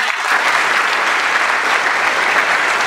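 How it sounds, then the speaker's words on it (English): A conference audience at a large African hackathon gives loud, dense, sustained applause that fills the whole moment and stops abruptly at the end. "Can we give them a resounding applause?"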